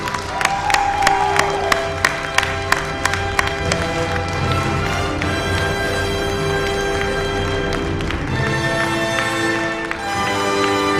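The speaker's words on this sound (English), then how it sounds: "You definitely can cheer, shout." An audience at an awards ceremony cheers and applauds steadily for about eleven seconds, a dense crowd roar with sharp claps and whoops throughout.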